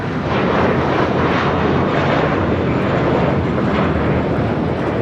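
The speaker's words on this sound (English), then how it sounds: "That was American 1672 taking off to Dallas-Fort Worth on an A321." An American Airlines Airbus A321 jet takes off at Los Angeles International Airport, a loud, steady, broadband engine roar sustained throughout without letup.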